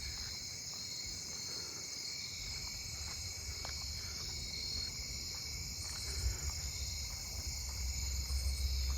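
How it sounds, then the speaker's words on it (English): Narrow-winged tree crickets trill in a continuous, steady high-pitched drone, layered and unbroken, with faint low rumbling in the background. "a lot of the tree crickets right through here are still narrow-winged"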